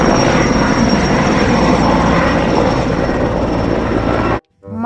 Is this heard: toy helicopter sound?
yes